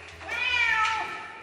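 A cat meows at the vet in a single drawn-out, rising-and-falling plaintive cry, close and fairly loud, with no talking over it.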